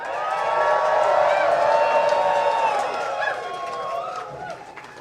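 Crowd at a Sacramento mayoral campaign speech cheering and whooping loudly for several seconds, the roar swelling then gradually fading, with voices shouting throughout.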